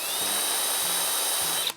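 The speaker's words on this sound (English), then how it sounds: "I'm going to take my drill bit." A power drill whirs steadily while boring a screw hole in flat-pack cabinet wood during a pull-out tray installation, running loud and close without pause before stopping abruptly at the end.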